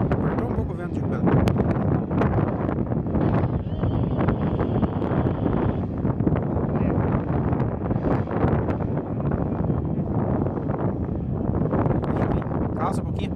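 Wind buffets the microphone aboard a sailing boat, a continuous loud rushing roar that fills the whole stretch without pauses.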